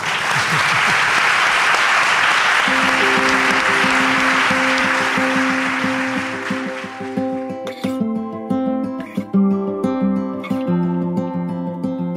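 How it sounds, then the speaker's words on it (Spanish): Audience applause fills the first several seconds, dense and loud, then fades as a piano-like melody takes over, with clapping thinning out underneath the music. "¿Me aplaudís, por favor, al Vicente Espinel Escobulero?"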